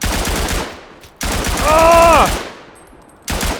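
Machine gun fire in the WWI video game Tannenberg comes in loud rapid bursts separated by short gaps, with a brief tonal, voice-like sound sitting over the middle burst.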